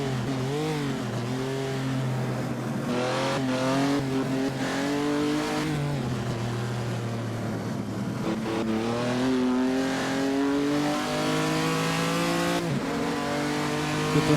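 A 1948 race car revs and accelerates in Assetto Corsa at the Napoli Grand Prix. The engine note climbs and falls steadily through gear changes, loud and continuous, with no talk over it.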